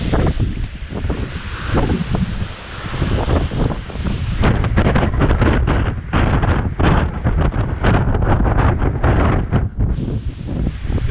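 Strong gusting wind buffets a handheld GoPro camera on an exposed trail run, a loud continuous roaring rumble with choppy flutter and heavy buffeting that nearly drowns everything else.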